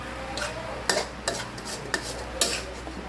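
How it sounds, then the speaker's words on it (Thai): A spoon mixes catfish larb salad in a bowl, making four or five sharp clinks and scrapes at an irregular pace over a soft background hiss. "เคล้าให้เข้ากันอีกรอบหนึ่ง"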